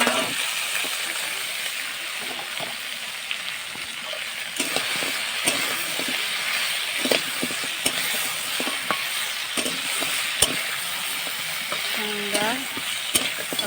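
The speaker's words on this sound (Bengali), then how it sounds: "এবার ভেজে রাখা কাঁকড়াগুলো দেবো" Fried crabs are stirred into a curry cooking in a pan, giving a steady sizzle broken by scraping stirs and occasional clanks of the utensil against the pan.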